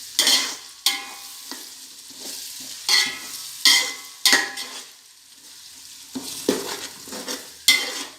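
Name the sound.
stirring ginger garlic paste frying in pan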